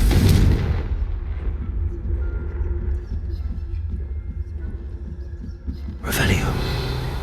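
An explosive Confringo spell blast in Hogwarts Legacy: a heavy booming impact at the start with a rumbling decay, then a second burst near the end, loud and close over low background hum.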